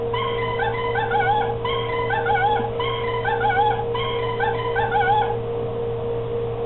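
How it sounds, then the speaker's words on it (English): A squeezed lemur plush toy plays its built-in recording of lemur calls: repeated wavering, yelping cries over a steady electronic hum, in four close, evenly spaced bursts. "this makes lemur sounds when you squeeze it"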